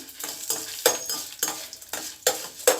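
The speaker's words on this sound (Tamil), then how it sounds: "காஞ்ச மிளகா சேர்த்துக்குருவோம் அதையும் சேர்த்து ரெண்டு கிண்டு கிண்டிட்டு" Black urad dal and dried red chilies sizzle in hot oil in a pan while a spoon stirs them, giving close, rhythmic scraping sweeps every half second or so over a steady frying hiss.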